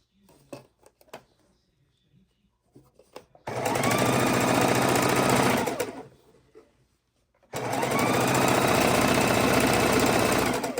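A single-speed sewing machine stitching a scrap-fabric quilt block runs in two loud, steady bursts of rapid needle chatter, separated by quiet gaps with faint handling clicks.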